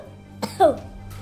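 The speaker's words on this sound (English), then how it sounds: "I just coughed a little bit." A single short cough from a child at play, one sharp burst followed by a brief throaty second push, close and clear against a quiet room.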